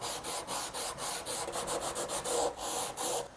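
Rust is scrubbed off a steel knife blade in quick, rhythmic back-and-forth strokes, a close, soft rasping rub repeated steadily with no talking.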